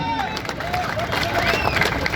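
Crowd at a political rally speech breaking into clapping and cheering, a dense, loud wash of applause and crowd noise with voices mixed in.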